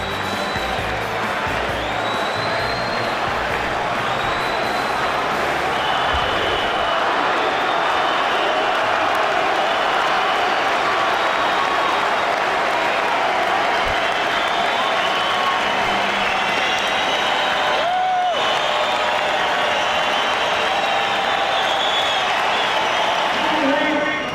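A big boxing arena crowd roars and cheers in a steady, dense wall of noise for the whole stretch, with a commentator talking over it.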